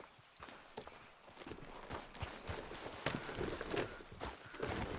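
Horse hooves clip-clop at a steady walking pace in Red Dead Redemption 2, a continuous rhythmic patter of footfalls over ambient outdoor game sound, moderately close and fairly loud.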